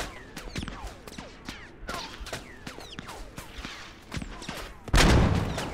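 Rapid gunfire in the Squad video game, Galactic Contention mode: sharp cracks and bursts of shots near and far throughout, ending in a heavy blast, with faint voices underneath.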